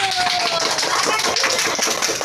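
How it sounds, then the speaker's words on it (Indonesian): A group of people clapping in a classroom lesson on ritual washing, a brief burst of scattered hand claps with talking over it. "tepuk, berikan tepuk"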